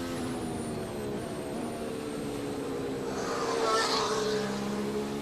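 Formula 1 cars at speed during British Grand Prix practice give off a steady, high-pitched engine whine with a strong tonal drone. One car surges louder as it passes near the middle before the sound settles back to a continuous roar.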